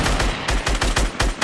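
Rapid gunfire in the battle royale game Fortnite, during a 20 versus 20 match. Loud shots come in quick bursts of about eight evenly spaced cracks with no pause.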